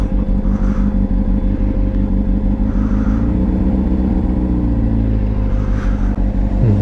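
Loud, steady engine drone and road noise from riding a Honda CBR motorcycle through traffic near shopping centres, with pitch rising and falling as the bike accelerates.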